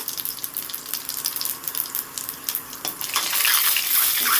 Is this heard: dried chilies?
yes